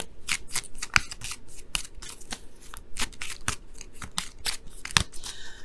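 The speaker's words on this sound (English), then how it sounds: "I'm going to pull a card for that too." Tarot cards shuffled by hand up close, a rapid run of crisp riffling flicks and taps in an uneven rhythm, ending as a card is drawn, with no talking.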